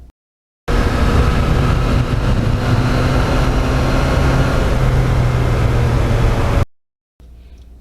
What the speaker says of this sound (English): Now that muffler sounds good, reasonably good on a video, but it really sounds good in real life